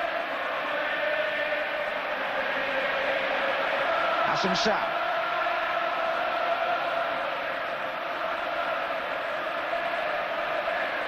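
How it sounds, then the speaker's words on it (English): A football stadium crowd at a Liverpool versus AS Roma Champions League semi-final roars in a steady, broad swell, with a commentator talking over the noise throughout. "That's got the crowd going here."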